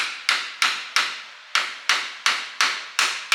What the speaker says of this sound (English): get yourself a scraper or chisel and put it on the edge here, give it a few taps.